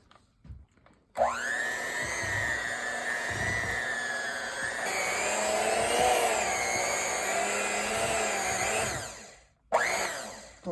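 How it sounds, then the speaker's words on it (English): Electric hand mixer whirring through carrot cake batter, a loud steady motor whine that starts abruptly, shifts pitch midway as the beaters work, then cuts off and briefly restarts near the end. "Let me plug this in and I'm going to mix it a little bit here."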